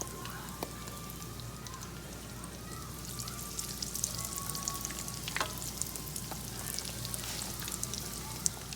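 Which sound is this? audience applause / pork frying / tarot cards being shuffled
pork frying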